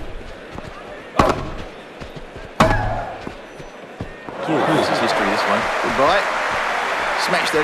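Grand Slam Tennis 2 video game rally: two sharp, loud racket strikes a second or so apart, the second a hard smash, followed by a swell of crowd noise while a commentator talks over it.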